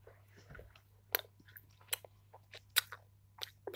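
Close, crisp crunching and biting of a hard, very sour food, with several sharp bites and irregular chewing crunches spread over a few seconds against a low steady hum.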